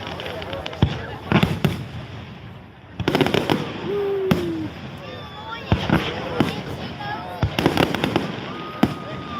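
Fireworks bursting at the Milan Fair: repeated sharp booms and crackling pops at irregular intervals, some loud and close, with a whistling rise between them and people talking throughout.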